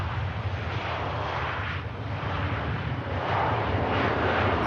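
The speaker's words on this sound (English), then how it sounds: "Ryanair about to touch down from Wrocław" A Ryanair jet arriving from Wrocław touches down at rainy Manchester Airport, a steady broad engine roar that stays loud and fairly close throughout, with no voices.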